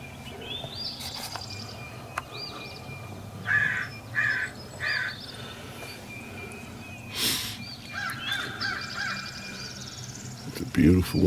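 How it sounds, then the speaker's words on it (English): Crows caw on an early morning during a turkey hunt outdoors. Several short bursts of harsh calls come from a moderate distance over a soft background of insects. "Crows are waking up."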